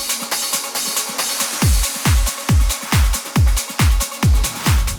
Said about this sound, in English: Drums altogether sounds like this.